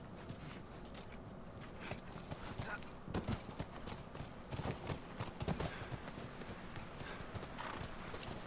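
Horse hooves clip-clop in a quick, uneven rhythm close by in The Last of Us video game, with a brief whinny and some scattered clatter over a steady background.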